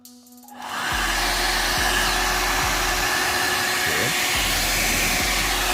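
A VGR V431 hair dryer switches on after a brief word and runs with a loud, steady, broadband blowing roar, holding an even level for several seconds.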